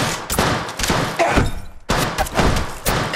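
Automatic gunfire in the mobile battle royale game Apex Legends Mobile, loud and close, with rapid bursts of shots and thuds that pause briefly before resuming.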